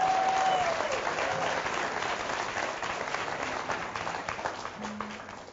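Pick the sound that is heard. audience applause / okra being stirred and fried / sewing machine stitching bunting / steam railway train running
audience applause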